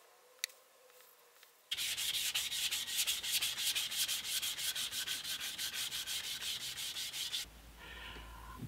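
A coffee table's superglue (CA) finish is sanded with 1500-grit paper in quick, even back-and-forth strokes, close and alone, for about six seconds after a quiet start.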